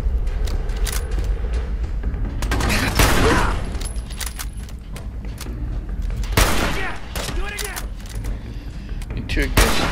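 Gunfire in the video game Fallout 4 during a firefight in tunnels: several loud, sharp shots and bursts spaced across the stretch over a rumbling game background.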